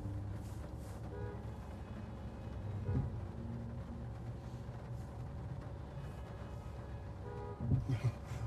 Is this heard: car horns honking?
yes